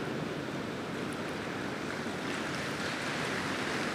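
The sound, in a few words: heavy rain falling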